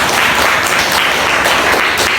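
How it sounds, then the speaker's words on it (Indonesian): Classroom applause from a group of students, a loud continuous burst of close clapping with a few sharper accents, no talking over it. "Tepuk tangan buat semuanya."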